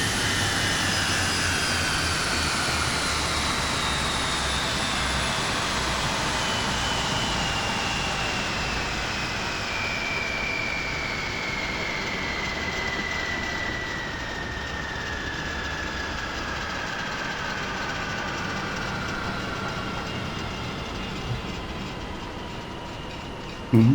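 A Boeing 727's jet engines shut down in Microsoft Flight Simulator 2024, a loud steady turbine roar with falling whine tones slowly winding down over about twenty seconds, ending with a faint click.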